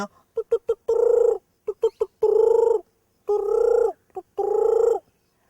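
A person imitates a spotted dove's cooing: quick short clucks, then drawn-out hooting coos repeated in a rhythmic pattern, close and clear.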